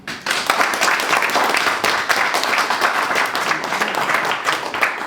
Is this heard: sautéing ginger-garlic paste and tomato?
no